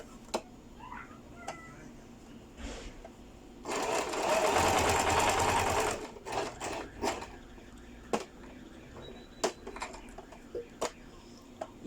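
A sewing machine stitches a skirt seam in a burst of steady rapid needle clatter lasting about two seconds, surrounded by quieter ticks and handling clicks in a small room.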